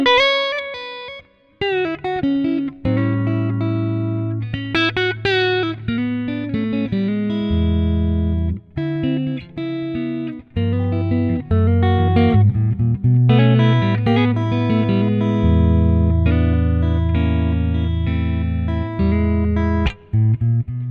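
A clean electric guitar through a neck humbucker pickup plays sustained chords and melodic lines with a warm, rounded tone, ringing steadily for about twenty seconds with no talking.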